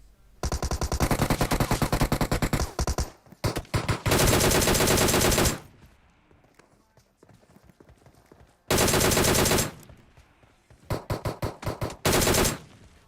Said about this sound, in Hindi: अब जब यहाँ पे टोमी गन चली थी यार, मेरे को लगा एक और टीम आ गई